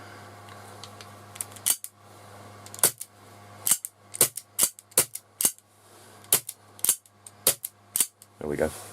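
Airsoft pistol fired repeatedly, a string of about a dozen sharp, loud cracks in an uneven rhythm over a steady low hum, each shot close and snappy.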